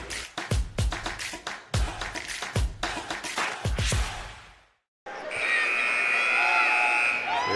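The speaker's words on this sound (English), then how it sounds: "There's the warning buzzer" A long, loud electronic warning buzzer sounds at a West Virginia regional high school boys basketball game, following rapid ball bounces and crowd noise in the gym.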